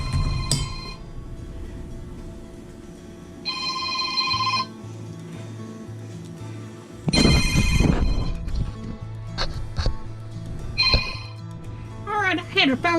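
A telephone ringing with an incoming call in a home kitchen during cookie baking, several bright bursts of ringing with pauses between them, over background noise and a voice.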